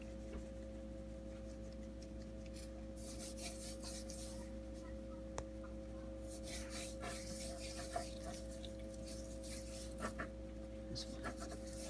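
Hands rub seasoning onto raw pork ribs before smoking over mesquite wood chips, giving soft, close, intermittent scraping and rubbing bursts over a steady hum, with no talking.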